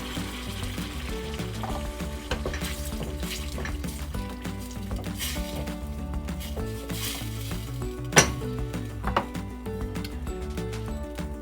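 Crushed tomatoes sizzling in a frying pan while cooking chicken Alfredo, a quiet steady crackle and hiss with stirring and utensil clinks against the pan, and one sharper knock near the end.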